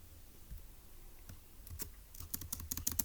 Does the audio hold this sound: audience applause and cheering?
no